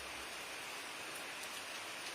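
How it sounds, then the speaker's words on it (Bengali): Light drizzle falls in a coastal village area under cloudy skies, a soft, even hiss of rain with no voices. "এখন কিন্তু ঝিরঝিরিয়ে বৃষ্টি হচ্ছে"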